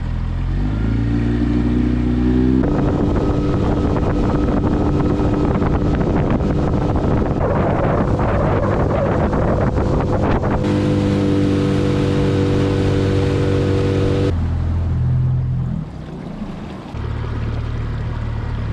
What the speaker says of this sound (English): I love these little Yamaha 4-stroke engines